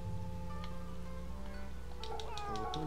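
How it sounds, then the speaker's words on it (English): In the video game Fate/Samurai Remnant, a cat meows a few times over a steady game soundtrack and ambience, a short mewing call that sits fairly quiet in the mix. "I hear another cat. Cat spotted. Cat spotted."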